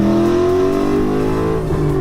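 A Ford Mustang engine revs hard in second gear, a loud, close, sustained roar with a steady rising pitch, holding for about two seconds without any talk.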